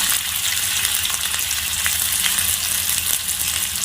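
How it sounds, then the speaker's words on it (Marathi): Finely chopped onion going into hot oil over browned ginger and garlic for bheja masala, frying with a steady, dense sizzle and crackle that runs unbroken and fairly close, with no talking. "त्यामध्ये आपण बारीक चिरून घेतलेला कांदा टाकूया"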